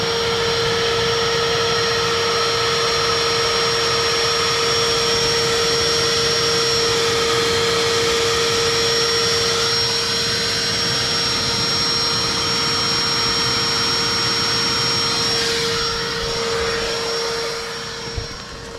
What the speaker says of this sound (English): The main part of it is outside, and all it is an old shop vac.